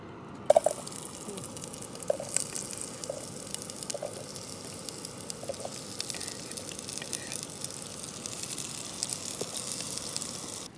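Sliced onions frying in oil in a pan, a steady close sizzle with small crackles and drips running throughout, no talking.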